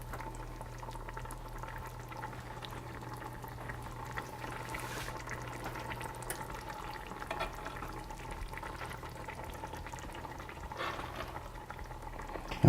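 Lamb pieces cook in a lot of melted butter in a pan, giving off a low, steady bubbling sizzle. The sound stays faint and even throughout, with no talking.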